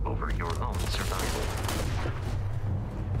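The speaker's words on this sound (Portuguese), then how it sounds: "O cara desviou de todos os meus tiros." Rapid bursts of gunfire in the video game Starfield crackle continuously, loud and dense, with layered shots and booms filling the whole stretch.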